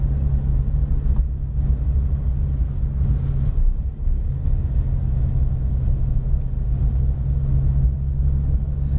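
Porsche GT3 RS rolling gently at Auto Club Speedway behind a lead car, a loud, steady low engine drone with a brief dip and slight swells as light throttle is applied.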